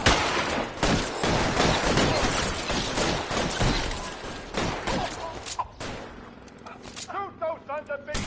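Gunfire crackles through a shootout in L.A. Noire, with rapid, dense volleys of loud shots that thin out toward the end as a voice speaks over them.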